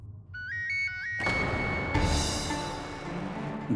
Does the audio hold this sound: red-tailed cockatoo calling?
no